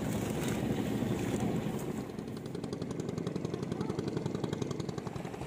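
Pompong wooden riverboat engine chugging steadily on a river canal at Terusan, a rapid pulsing beat over wind and water wash, moderately loud and continuous with no voices.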